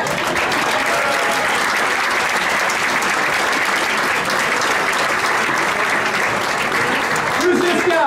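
Loud, dense audience applause at a tribute gathering, a continuous roar of clapping lasting about eight seconds with crowd voices mixed in near the end.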